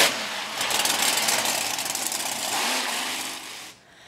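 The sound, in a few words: monster truck engines roaring at a show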